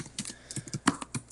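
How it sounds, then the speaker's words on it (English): Fast typing on a computer keyboard, a close, quick run of irregular key clicks and clacks with a couple of louder strikes, heard alone in a quiet room. "Clickety clackety. Yeah, man, dude, typing real fast to try and get through things."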